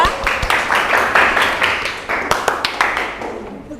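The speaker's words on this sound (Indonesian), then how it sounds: "Tepuk tangan untuk kelompok 5 yang sudah presentasi ya." A classroom applauds a student group after their presentation, scattered individual claps forming a short burst of applause that thins into distinct separate claps toward the end, fairly close.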